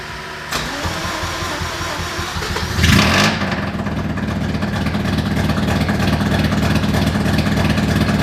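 A Mazda RX-7 rotary engine cranks and fires into life, then settles into a steady, loud idle with a throaty rumble that carries on to the end, close by and with no talk over it.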